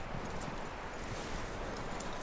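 Horse hooves clip-clop in the Western video game Red Dead Redemption 2, a steady walking rhythm of soft hoof falls heard up close over a continuous outdoor ambience.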